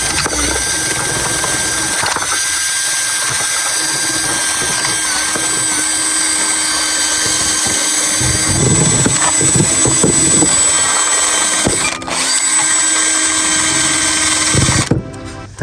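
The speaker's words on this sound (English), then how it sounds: "So I've got my drill and I'm going to wire brush that off" A power drill whirs continuously with a harsh, scratchy grinding as a wire brush scrubs rust off BMW 1 Series brake parts, close and loud throughout.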